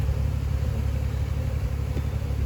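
A tractor engine runs nearby on a rural property during beekeeping work, giving a steady, loud low rumble that holds evenly throughout with no talking.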